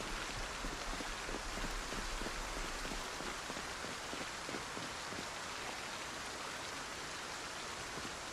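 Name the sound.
rain in a video game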